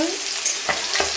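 Small rohu fish pieces frying in oil in a pan at home, a loud continuous hiss and crackle with a couple of brief sharper pops, no talking.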